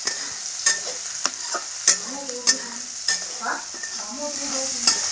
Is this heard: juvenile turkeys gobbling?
no